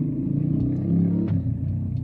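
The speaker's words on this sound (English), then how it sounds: "if you guys hear like a motorcycle sound like that" A motorcycle's low engine rumble passes nearby, steady and throaty with a slight rise in revving, and no voices.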